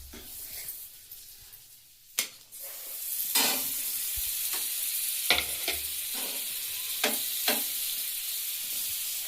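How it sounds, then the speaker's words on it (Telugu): Pav bread rolls toasting in butter on a hot griddle for street-style pav bhaji, a steady close sizzle with occasional sharp scrapes and taps of a spatula, no voices. "పావును కాల్చుకోవాలి. బటర్ మన ఇష్టం అంతా వేసుకోవచ్చు."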